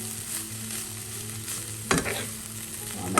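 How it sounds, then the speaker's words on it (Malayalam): Papaya thoran frying in a pan, with a steady soft sizzle and a spatula stirring through it, including a sharp scrape near the middle, close and with no voices. "എല്ലാം ഒന്ന് ഇളക്കാം."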